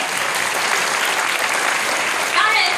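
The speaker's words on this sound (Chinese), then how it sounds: "我们是不是给我们的 Make a Wish Foundation 一个热情的掌声" Dense, sustained audience applause at a charity art gala dinner honoring the Make-A-Wish Foundation on its 20th anniversary, a steady wash of many clapping hands filling the room from start to finish, swelling slightly near the end.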